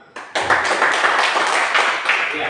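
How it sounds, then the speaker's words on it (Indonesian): A classroom of students clapping their hands together, a brisk burst of close, dense applause starting after a brief pause and carrying steadily to the end. "Tepuk tangan dulu."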